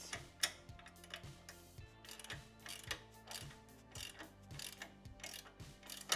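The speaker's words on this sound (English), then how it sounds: "all we need to do is do a final tighten on this bar. So we've got our Allen and a 7/16" Wrench ratcheting during final tightening of a handlebar bolt on a 2024 Harley-Davidson Road Glide, quiet evenly paced clicks in short regular strokes, close by.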